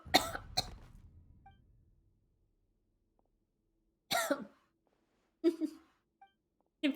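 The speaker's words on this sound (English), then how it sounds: "It feels really awkward to just cough for no reason." A video game character in Genshin Impact coughs in short, harsh bursts: a double cough at the start, then single isolated coughs spaced a few seconds apart, clear and close with silence between.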